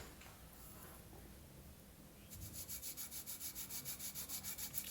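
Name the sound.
sanding balsa wood for a glider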